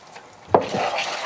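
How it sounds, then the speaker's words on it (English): A spoon stirs a batter with vanilla and salt in a pot in a home kitchen, making one quick close scrape and knock followed by a soft swishing rub. "Give that a stir."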